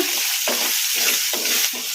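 Loud, steady sizzle of hot tempering oil as cut green and dry chillies are stirred in with rhythmic strokes sweeping through it, close up.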